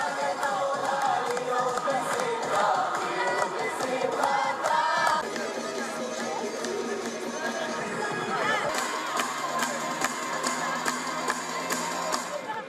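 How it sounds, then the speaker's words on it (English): A large crowd of Israelis waving flags cheers as a convoy carrying freed hostages passes, a dense, continuous roar of shouts and chatter that stays loud throughout, with a sharper swell of voices near the end. "they could be seen waving Israeli flags and cheering as the convoy carrying hostages"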